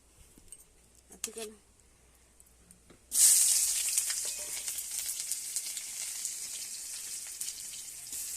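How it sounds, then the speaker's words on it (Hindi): Onions hit hot oil in a pan with a sudden loud sizzle that settles into a steady, crackling fry lasting several seconds, after a few quieter handling knocks before it begins. "प्याज पकईकी भाजिली"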